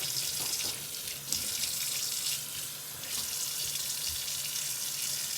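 Kitchen tap running into a sink to fill it for rinsing freshly harvested dandelions, a steady, hissing rush of water, close and continuous, with no talking.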